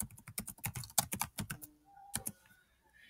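Quick bursts of key presses on a computer keyboard, close and clear, a rapid run of taps followed by a pause and a few final strokes.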